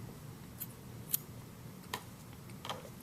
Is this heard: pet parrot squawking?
no